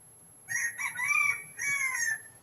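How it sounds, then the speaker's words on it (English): Roosters crow nearby in two drawn-out, strident calls, the first broken into a rising phrase and the second a long sustained cry, standing out clearly over faint background noise. "The fucking roosters are out again."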